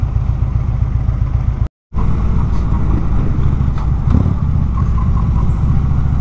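A large-displacement motorcycle engine runs steadily while riding through traffic, with a loud, continuous low rumble broken by a brief cut near two seconds and a slight surge around four seconds.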